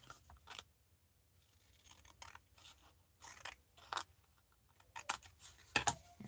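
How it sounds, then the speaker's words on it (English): Scissors snip through a paper border in a series of quick, close, crisp cuts, some in rapid clusters and some spaced apart, with no talking. "I'm just going to snip off some of this extra border"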